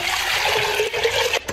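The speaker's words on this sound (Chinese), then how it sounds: "我给你加水" Water pours steadily into a cooking pot in a home kitchen, a loud continuous rushing splash that cuts off abruptly near the end.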